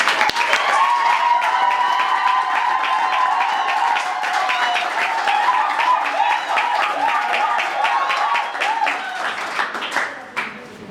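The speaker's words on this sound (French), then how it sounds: "Acclamation." Guests at a civil wedding ceremony in Cairo break into sustained applause, dense and loud clapping from a crowd that holds steady for about ten seconds before tapering off, with murmured voices mixed in.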